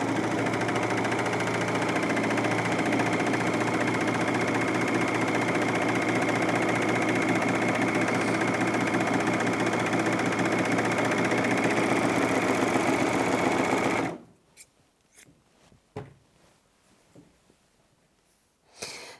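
A Bernette Funlock b44 overlocker stitches the edge of thick, stretchy fleece with a loud, fast, continuous mechanical whir that stops abruptly, leaving a few light handling clicks.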